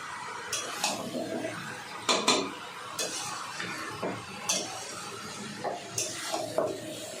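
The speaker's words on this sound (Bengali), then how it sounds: "এবার ভালো করে কষিয়ে নেব।" Mutton being stir-fried with chopped tomato in a pan for Bengali mutton kosha, a spatula scraping and clanking against the metal every second or so over a soft steady sizzle, close and fairly quiet.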